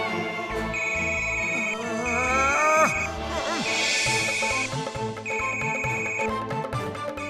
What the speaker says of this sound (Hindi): See, the mobile is ringing inside the statue.